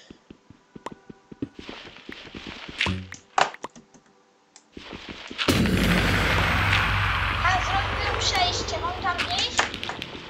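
A loud broadband blast with a long rumbling tail erupts midway through a Minecraft SkyWars match as TNT explodes, preceded by scattered clicks and thumps of gameplay; players talk over it.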